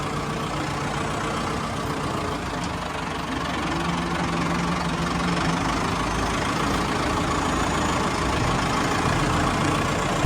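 A heavy tractor engine idles steadily and loudly throughout, with a constant low knocking rumble.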